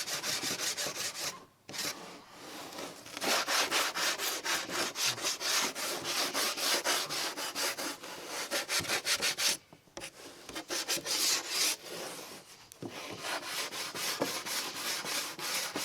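Hand sanding of a curved wooden cutout for a Pac-Man Santa lawn ornament, fine grit around 220: steady, close rasping strokes in a fast rhythm with two brief pauses, loud and continuous without talk.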